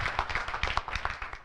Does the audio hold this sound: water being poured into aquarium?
no